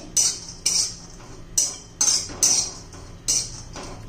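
Dried grated coconut dry-roasting in a pan without oil, stirred with a utensil that scrapes and clinks in about seven short, evenly spaced strokes, close and crisp with no talk.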